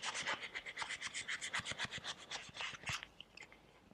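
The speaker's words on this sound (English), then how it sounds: "I'm sanding at multiple angles to help round this over." A wooden chair arm being sanded with a block, shaped at multiple angles to round it over: about twenty quick, even rasping strokes close up, tapering to a few slower rubs at the end.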